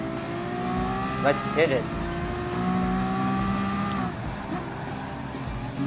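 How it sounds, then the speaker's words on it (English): LaFerrari engine in Gran Turismo Sport at Blue Moon Bay drag strip, a steady tonal drone with rising revs and gear changes, someone speaking briefly over it. "LaFerrari is coming in for a drag race."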